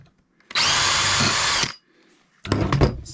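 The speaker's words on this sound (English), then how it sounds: "I'm going to use a drill bit." A power drill boring a spindle hole for a mortice sashlock whines steadily for about a second, stops briefly, then starts again in a rougher, uneven burst of drilling, close and loud.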